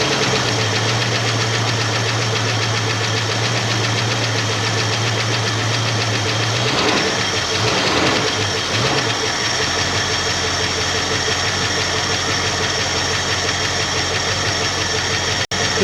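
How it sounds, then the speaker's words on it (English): Worn 289 V8 in a 1966 Ford Mustang idling with a steady rattling valve-train clatter from collapsing hydraulic lifters, loud and close, a continuous metallic din over a low engine drone with no talk. "The valve train clatter we're hearing is caused by hydraulic lifters collapsing"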